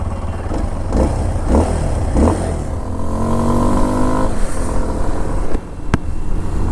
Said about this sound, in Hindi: Such a fun to ride motorcycle, man.